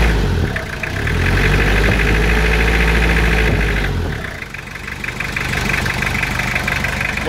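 Toyota Hilux pickup engine idling steadily up close after a radiator, oil and filter service, a continuous low rumble that dips briefly mid-clip before settling back into an even idle.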